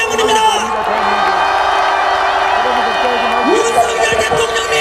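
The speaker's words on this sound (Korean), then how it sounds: "우리의 함성이 들리십니까?" A large outdoor political rally crowd cheers and roars continuously, with whoops and shouts rising in a dense wall of voices that stays loud throughout, a brief swell near the end.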